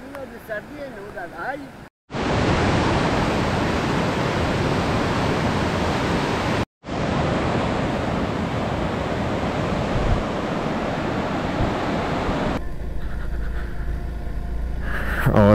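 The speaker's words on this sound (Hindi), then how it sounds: "ये मेरे ख्याल से पानी आ रहा है ऊपर से, नीचे को टर्बाइन वगैरह हो गई।" Mountain water rushing down from above toward a turbine in Hushay Valley near K2, Gilgit-Baltistan: a loud, steady roar fills the scene, broken by two brief cuts, and after a few seconds of quieter background it continues without pause.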